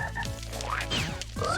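A frog in the video game Heroki gives several short, rubbery croaks in quick succession, loud and close, mixed with other bright game effects and no talking.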